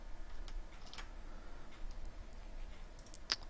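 Someone types on a computer keyboard in a quiet room, producing a few sparse, light clicks and taps spread unevenly over a few seconds, close and faint, with no talk.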